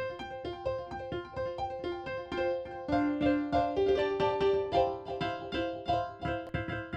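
A piano in FL Studio runs through the Vintage Phaser effect, playing a continuous stream of chords and notes that blur into a denser, swirling wash with sustained tones.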